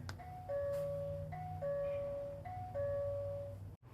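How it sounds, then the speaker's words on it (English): An electronic smart door lock doorbell chime plays a two-tone ding-dong three times in a steady rhythm, clear and close, ending with a brief click. "I can hit the doorbell there."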